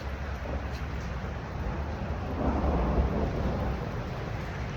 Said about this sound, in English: you can hear the sky cracking and everything.